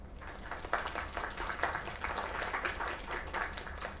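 A theater-style audience breaks into sustained applause after a singer's performance, dense overlapping clapping, steady and fairly loud for the whole stretch with no voices over it.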